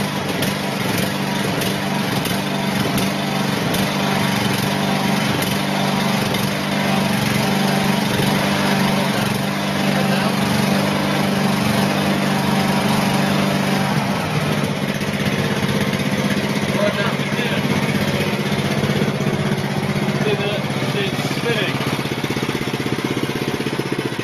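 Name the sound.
small engine running after choke start on the Power Cube prototype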